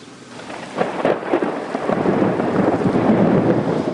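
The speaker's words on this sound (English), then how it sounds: "Thunder and lightning, high winds and rain." A thunderstorm with rain falling steadily and thunder rumbling loud and close, building into a sustained roar with rain hiss throughout and no voices.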